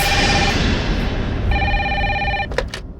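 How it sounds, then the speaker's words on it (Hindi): An official landline telephone at a police station rings in two electronic bursts with a pause between them, loud and close, with a faint clatter at the end; no one speaks. "कैसा फोन है, फिर भी बज रही है"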